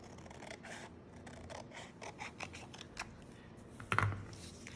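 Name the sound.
scissors cutting folded paper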